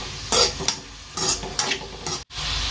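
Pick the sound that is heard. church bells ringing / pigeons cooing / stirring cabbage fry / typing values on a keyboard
stirring cabbage fry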